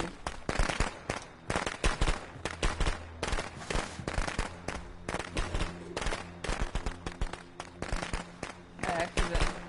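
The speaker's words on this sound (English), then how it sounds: "There's firecrackers going off where I am." Firecrackers go off outdoors in rapid, irregular bursts of sharp cracks and pops, some in quick crackling strings, loud and continuous over a faint steady background hum.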